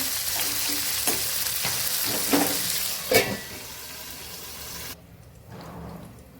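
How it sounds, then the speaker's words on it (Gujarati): Tomatoes for Kathiyawadi chutney stirred and turned over in a hot pan make a loud close sizzle broken by several scraping, clattering strokes, after which the hiss suddenly drops to a quieter simmer near the end. "આપણે આ ટમેટા એકથી બે વાર આપણે આવી રીતે ફેરવશું"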